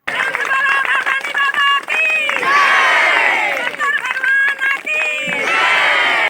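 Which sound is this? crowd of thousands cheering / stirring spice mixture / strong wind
crowd of thousands cheering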